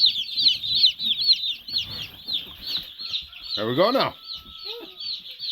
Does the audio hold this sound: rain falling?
no